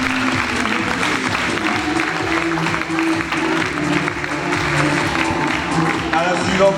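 Crowd applause for young women contestants at an evening election of the festival queen in Hagetmau, steady broadband clapping filling the whole stretch with a busy crowd murmur beneath it.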